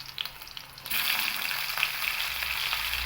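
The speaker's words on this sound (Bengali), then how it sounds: "এই মাছগুলো দিয়ে আমি হালকা একটু ভেজে নেব, বেশি ভাজবো না, হালকা করেই ভেজে নেব।" Salted, turmeric-rubbed hilsa pieces hit hot oil over a green chili tempering and set off a sudden, steady sizzle that keeps crackling close up after a quiet start.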